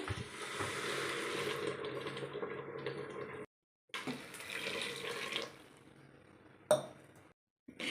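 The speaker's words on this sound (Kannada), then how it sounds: "ನೀರು ಸೇರಿಸ್ಕೊತಾ ಇದ್ದೀನಿ." Water is poured into a cooking pot of spices such as garam masala, chili and coriander powder for methi bath, heard as close, steady splashing in two pours separated by a brief pause, with a light clink.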